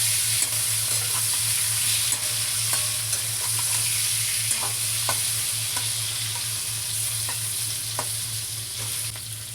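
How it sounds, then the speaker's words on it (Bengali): Small tengra fish fry in hot mustard oil with a steady close sizzle, while a utensil stirs them, giving scattered scraping clicks over a constant low hum. "তেল গরম হলে তাতে ট্যাংরা মাছগুলোকে দিয়ে ভালোভাবে নাড়াচাড়া করতে হবে।"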